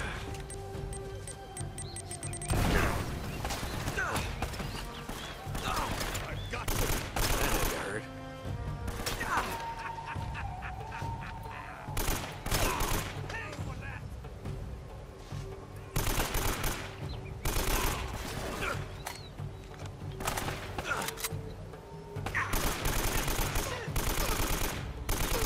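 Dense, loud bursts of video game gunfire in Uncharted: Drake's Fortune, rapid automatic volleys and single shots repeating throughout with impacts and game music, mixed with a player talking.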